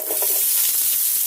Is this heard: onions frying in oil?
yes